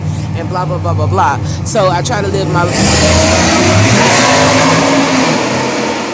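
A loud vehicle engine revs outside, rising abruptly halfway through and holding as a harsh roar, while someone talks over the first part.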